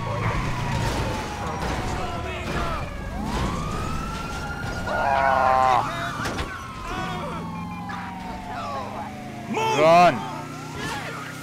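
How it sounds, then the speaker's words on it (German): Police car sirens wail in pursuit within GTA 5, their rising and falling tones sweeping steadily through the whole stretch amid engine rumble and game noise, with a voice talking over them. "Nur scheiße, dass die Polizeiautos hinter mir waren."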